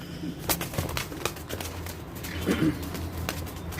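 Egyptian tumbler pigeons play on the ground, giving soft cooing calls and faint wing flutters over quiet background noise.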